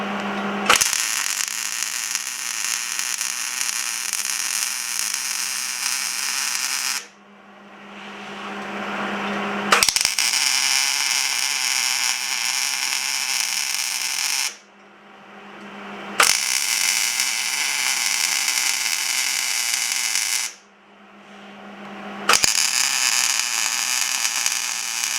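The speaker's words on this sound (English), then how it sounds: "I'm going to do stitch welds on the inside of the scroll." Stitch welding on the inside of a blacksmith's scroll for a courting candle: three long, steady electric welding buzzes, loud and close, each separated by a short quiet pause, with no talk.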